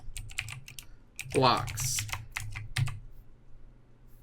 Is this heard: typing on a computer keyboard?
yes